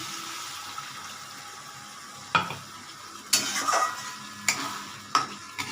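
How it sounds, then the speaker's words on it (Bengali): Spice paste for a tilapia curry fries in a pan, a soft sizzle broken by several loud scraping stirs of the spoon in the thinned masala. "একটু কষিয়ে নিই একটু কষিয়ে নিচ্ছি"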